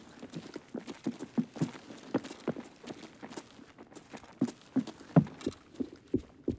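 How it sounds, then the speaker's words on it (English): Footsteps climb stairs in the shooter game Escape From Tarkov, a steady run of soft, thudding steps at a walking rhythm, moderately close and fairly quiet, with no voices over them. "Oh, they're coming up the stairs."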